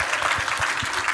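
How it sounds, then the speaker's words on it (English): Audience clapping for Curtis during a talk by doctors about the keto diet and weight loss, a loud, brief burst of dense applause up close. "I need a big clap for this."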